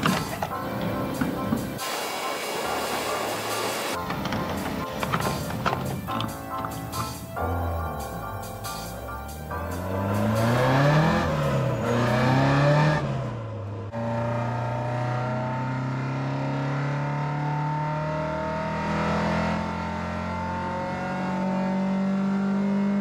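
A Ford Escort engine drones steadily while driving, rising and falling through gear changes and revving into a sustained, fairly loud hum with no talking.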